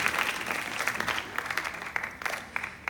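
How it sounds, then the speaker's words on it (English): A classroom group claps together ahead of a break, producing a dense, moderately loud patter of many hands that runs steadily throughout with no talk over it. "Clap it up for a break."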